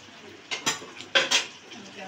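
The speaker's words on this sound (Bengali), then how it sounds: "তো এখন আমি ঢাকনা দিয়ে ঢেকে দিব।" A lid being set onto a cooking pot of fish curry with pointed gourd and potato: a few close metallic clanks and clinks in two quick pairs, with no talk.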